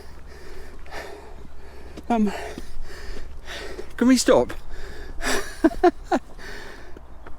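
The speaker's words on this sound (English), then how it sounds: "This is like heavy breathing." Heavy, laboured breathing from people climbing Glastonbury Tor, with gasps and puffs rising and falling close to the microphone, mixed with intermittent talk and wind.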